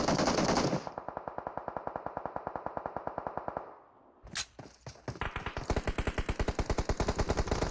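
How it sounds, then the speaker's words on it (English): Rapid automatic gunfire during a competitive shooter video game match, loud rhythmic bursts that break off briefly for a couple of heavy grenade-like blasts, then resume as sustained fire. "the third party shots are coming in off the side there"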